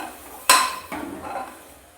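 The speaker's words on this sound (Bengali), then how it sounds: "এরপর ভালো করে একটু সব কিছু ভেজে নেব।" Kabuli chickpeas and other ingredients are stirred in a pressure cooker, starting with a sharp metallic clank of the utensil against the pot, then a softer scrape over a low frying sizzle.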